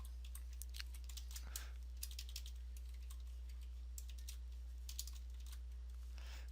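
Code being typed on a computer keyboard in a text editor, with faint clustered key clicks in short bursts and pauses over a steady low electrical hum, with no talking.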